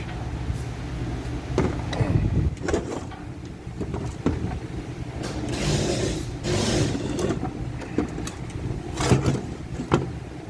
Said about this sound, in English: So I'm going to pull the pump out and the forward clutch.